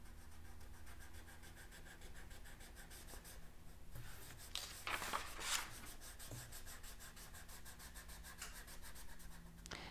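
A finger rubs chalk across paper while blending colors for a hot air balloon picture, a quiet, close, continuous scratchy rubbing that swells briefly in the middle. A low background hum runs underneath.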